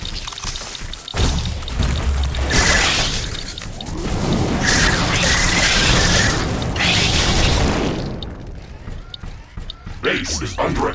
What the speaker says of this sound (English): A building has been destroyed.